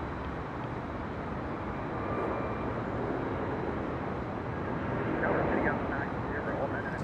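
A Southwest Airlines Boeing 737-800 arriving at LAX from Denver, heard as a steady broadband jet roar from a distance, rising slightly toward the end, with wind and background noise throughout.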